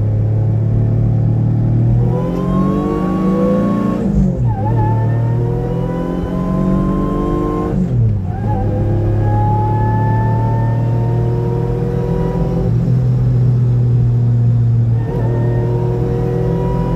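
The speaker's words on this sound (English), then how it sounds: "Took her to wide open third gear" A supercharged Mitsubishi 3000GT pulls at wide open throttle in third gear, its engine roar climbing steadily in pitch through repeated rising sweeps with brief dips between, loud and close from inside the car, no talking.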